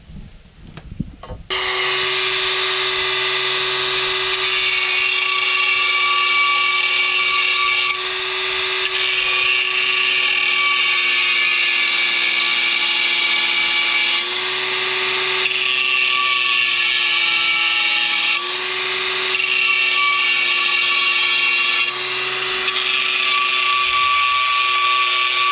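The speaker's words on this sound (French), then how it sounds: "C'est vraiment juste le dessous qu'on vient disquer." An angle grinder disc bites into the underside of a roof tile, a steady high whining cut held for long stretches with brief dips in pitch as the blade loads, loud and close with no talk.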